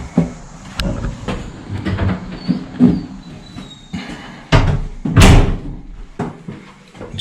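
A door in an old historic house is pushed shut with a heavy, wooden thud about two thirds of the way through, amid footsteps, creaks and room noise from visitors moving around.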